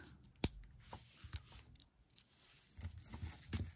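Scissors snipping cord for a handmade silk wrap bracelet, several sharp close cuts and small clicks scattered over a few seconds in a quiet room.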